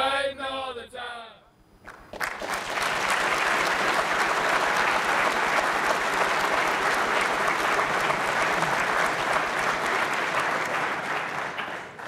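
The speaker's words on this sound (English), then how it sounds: "let's give one more round of applause also for Mr. Gary Jones, who put that video together" A large audience at a firefighter trainee class graduation ceremony applauds loudly and steadily for about ten seconds, a dense continuous roar of clapping, after a brief stretch of singing at the start.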